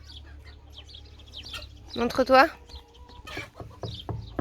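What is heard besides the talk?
chickens clucking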